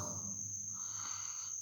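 Steady, high insect buzzing, taken as mosquitoes swarming at night while someone tries to sleep, running continuously and fairly close with a low hum beneath it.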